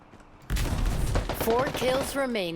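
Gunfire rings out in a Valorant-style mobile shooter game, a sharp loud onset followed by sustained shot and impact noise, with game tones and effects layered on top.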